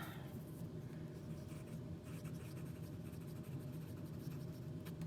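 A Lamy 2000 fountain pen with a fine nib, inked with Delta Unica aubergine, writing on paper: a faint, steady scratch and glide of the nib that runs continuously under a low background hum.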